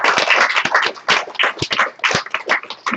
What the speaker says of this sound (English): Round of applause for our Yasmin.